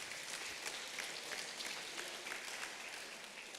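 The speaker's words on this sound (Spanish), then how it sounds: "Le doy un aplauso fuerte al Señor," A church congregation at a Sunday communion service in Tzeltal gives steady, even applause, faint and somewhat distant, filling the short stretch without pause.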